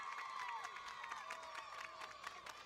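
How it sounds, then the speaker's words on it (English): North Carolina fans in a crowd at a youth baseball game cheering and whooping, a lively wash of shouts and scattered clapping heard from a moderate distance. "North Carolina faithful cheering on their squad"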